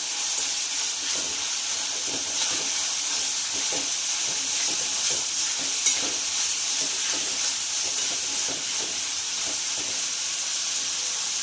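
Ginger garlic paste stir-frying in a pan for paneer bhurji, giving a steady, close sizzle and hiss with a faint, regular scrape of stirring throughout and no voices.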